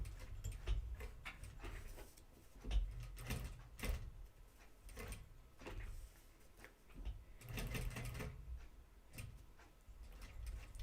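Domestic sewing machine hand-cranked around tight curves on a pair of jeans, a steady mechanical whirring and clicking with uneven bursts and pauses, close up, no voices.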